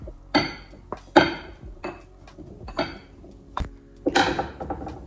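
Blueberries being gently stirred with lemon juice in a bowl, giving a series of clinking scrapes of utensil against dish, spaced irregularly and close by.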